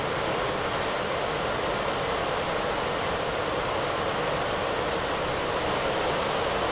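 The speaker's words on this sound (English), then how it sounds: "Hear the engine screaming now." A MilViz F-86 Sabre jet engine in the FSX flight simulator roars as a steady, loud, broadband hiss without change or pause, with no voices over it.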